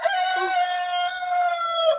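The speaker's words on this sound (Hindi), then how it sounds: "मुर्गी।" A rooster crowing in one long, drawn-out call, clear and fairly close, with a short cluck-like note near its start.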